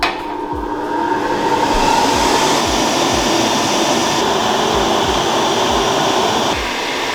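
A computer-controlled machine traces on plastic for a YZ 250 Chesterfield build. It makes a steady whirring hum with soft, regular low knocks roughly every half second, near and continuous.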